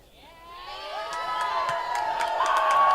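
A college men's soccer crowd swells into cheering and whooping over about three seconds, growing steadily louder and brighter as a player waves them on.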